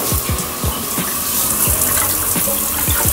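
Tap water runs steadily while a pitbull is bathed, a constant close gush and splash with brief sloshing bursts repeating throughout.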